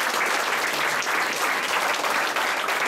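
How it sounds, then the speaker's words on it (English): Audience clapping after a lecture on the science of human excellence: a dense, steady round of applause filling the room, continuous for a few seconds with no talking. "please let us clap the hands"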